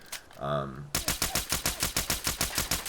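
Makeshift nailgun in Fallout 4 fires a rapid, evenly spaced burst of about fourteen loud shots, preceded by a brief tonal whir.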